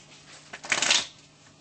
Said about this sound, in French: Et tu vas faire un mélange à l'américaine.